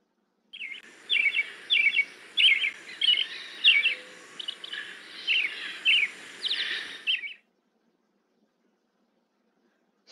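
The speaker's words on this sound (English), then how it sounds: "Thrush." A thrush sings a string of clear, varied whistled phrases, each short and separated by brief gaps, fairly close, then it falls silent.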